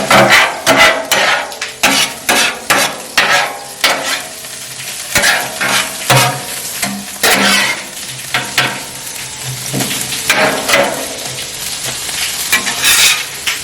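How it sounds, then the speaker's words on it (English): Potatoes fry on a Blackstone griddle while being tossed with a spatula, giving a steady loud sizzle broken by repeated scraping and clattering strokes, close and without talk. "So we're just checking on our potatoes, giving them a little toss"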